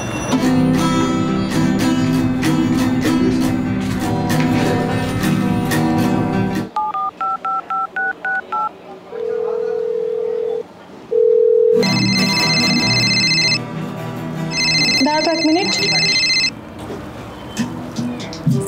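Guitar strumming stops abruptly, then a phone emits a series of short electronic ring tones and beeps; a person speaks briefly before the music and tones resume.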